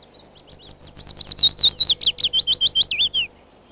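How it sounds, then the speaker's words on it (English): A willow warbler delivers one clear descending song phrase, a rapid run of sweet whistled notes swelling then fading over about three seconds, close and alone. "While here again is the willow warbler's song for comparison."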